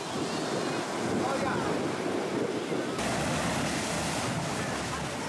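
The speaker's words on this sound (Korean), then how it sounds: "파도와 바람이 한 몸이 되어 부딪히는 이곳." Surf crashes steadily against the shore at Little Venice on the Greek island of Mykonos, with strong wind buffeting the microphone throughout. The roar is loud, continuous and close.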